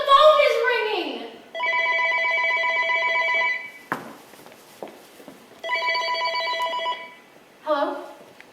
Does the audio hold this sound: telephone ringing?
yes